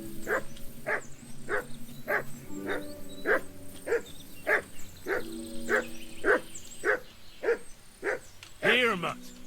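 A dog barks steadily in Kingdom Come: Deliverance II, a dozen or so evenly spaced woofs close by, ending in a louder rising yelp.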